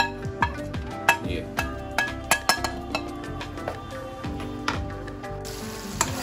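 Masala spices roasting in a pan with a light sizzle beneath repeated sharp metallic clinks and scrapes of a spoon against the pan, followed by a brief burst of louder hiss near the end.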